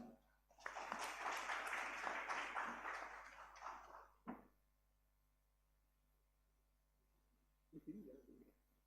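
A room of people applauds for about four seconds, the clapping swelling and fading, followed by quiet and a short murmur.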